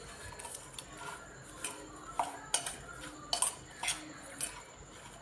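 A spoon clicks and scrapes against a bowl in soft, irregular taps while onion bhaji batter with red chili powder is mixed, faint and close.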